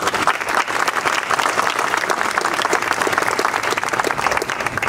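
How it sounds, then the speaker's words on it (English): Sustained, dense applause from an audience at a ribbon cutting for an Alabama dining facility, steady and fairly loud throughout with no talking over it. "I'd ask you all to give Amy a round of applause"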